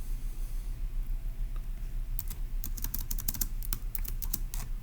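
Bursts of computer keyboard typing start a couple of seconds in and keep up in quick irregular clusters, close and fairly crisp over a low steady hum, with no talking.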